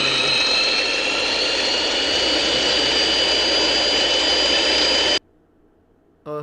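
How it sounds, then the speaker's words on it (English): Spinning helicopter blades give a loud, steady, close whooshing roar that holds evenly for about five seconds, then cuts off abruptly into near silence. "Helicopter blades behind."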